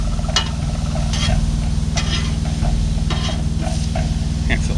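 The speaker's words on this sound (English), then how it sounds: "It's a lot of sizzle." Food with onions sizzles steadily on a hot 17-inch Blackstone griddle under a dome, a loud continuous hiss over a low mechanical hum, with occasional scraping clinks.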